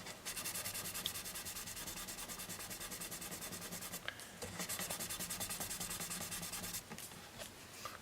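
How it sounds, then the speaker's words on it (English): Close, steady rhythmic rubbing of 2000 grit sandpaper over CA glue on a Martin guitar top, regular back-and-forth strokes with two brief pauses. "Now I'm going to take this 2000 grit sandpaper and try to smooth that out even."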